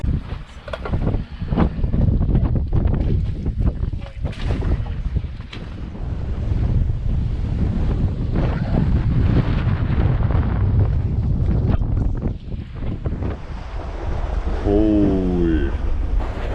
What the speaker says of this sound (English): Wind is going nuts